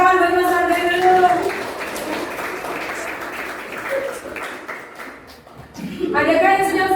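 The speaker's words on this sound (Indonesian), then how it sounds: "Tepuk tangan bagi Mas Fardan dulu" Classmates applaud a student named Mas Fardan in a classroom, a scattered burst of clapping with a chuckle or two that swells and fades across a few seconds, with a teacher's voice speaking before and after.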